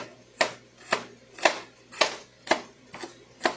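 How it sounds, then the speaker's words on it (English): Food being chopped and diced with a knife on a board, six sharp evenly spaced chops about half a second apart, close and loud. "giving it a big chop, dicing it"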